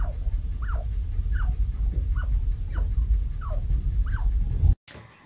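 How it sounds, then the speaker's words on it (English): Baby chinchillas feeding from their mother give soft, high squeaky chirps about every half second, six in a row over a low rumbling background. "This is when they're actually feeding off of mum. They make this sound and it's just adorable."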